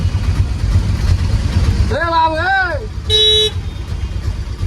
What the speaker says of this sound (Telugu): ఏమి ట్రాఫిక్ ఏమి ట్రాఫిక్ ఇది